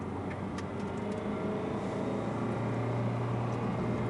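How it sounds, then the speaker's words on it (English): Steady low road roar from winter tires with deep tread blocks and soft rubber on a Shelby GT350 cruising in normal mode, a constant droning rumble inside the cabin with no talk. "I definitely notice a little bit more tire noise initially, actually a lot more tire noise"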